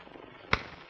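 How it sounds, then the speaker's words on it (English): A single sharp clap rings out once against a faint, quiet background hiss. "This is the sound of the clapping of two hands."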